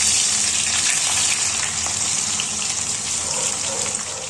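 Chopped onions dropped into hot oil for Kolkata-style chicken biryani, giving a steady, loud, broad hiss and crackle of frying that runs unbroken throughout, with no talking.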